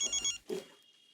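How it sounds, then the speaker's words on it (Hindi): A telephone gives a short electronic ring of a few quick trilling pulses, faint and brief, followed by a low murmur. "फोन बज रहा हो आपको?"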